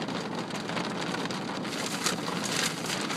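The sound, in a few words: heavy rain falling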